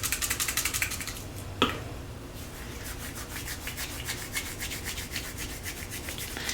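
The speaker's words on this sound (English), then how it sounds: "See if I can't give them a little extra crush." Dried celery flakes crushed between the hands over a tray of vegetables for tomato vegetable soup: a steady, close, gritty rubbing and rustling with one brief sharper crackle partway through.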